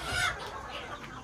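Country chickens on a poultry farm cluck in short, soft bursts nearby, with a brief louder squawk at the start and quieter clucks following.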